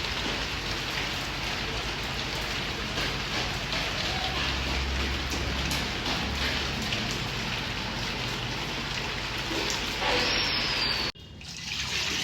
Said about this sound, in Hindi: अचानक से इतनी तेज़ बारिश होने लगी है